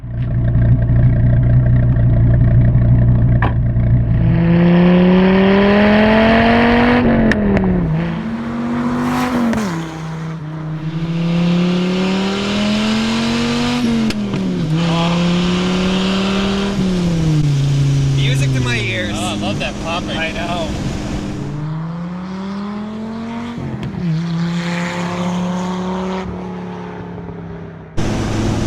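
A 1994 Dodge Viper RT/10 engine revs and pulls hard through several gears, pitch climbing and dropping with each shift, loud and close, with a brief spoken remark.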